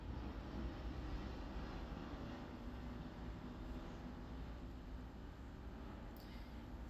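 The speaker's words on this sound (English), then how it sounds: "We have no control over the planes." Airplanes pass overhead as a steady, distant rumbling roar that holds evenly throughout, with no one speaking.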